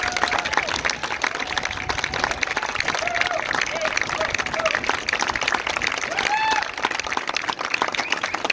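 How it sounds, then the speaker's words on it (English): A school concert audience claps loudly for student musicians of a high school wind ensemble, a thick, continuous round of applause with scattered whoops and cheers rising over it. "Can we just get another quick round of applause for the kids for everything they're doing?"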